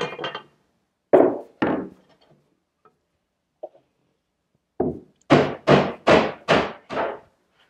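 Sharp mallet knocks drive wooden seat cleats into position during a woodworking glue-up, a few scattered strikes, then a rapid run of five or six close, loud blows.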